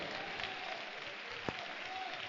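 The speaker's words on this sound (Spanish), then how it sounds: "Un aplauso de alabanza para el Dios Todopoderoso." A church congregation at a Spanish-language service claps in praise, a faint, steady wash of applause from a crowd with one sharper clap standing out midway.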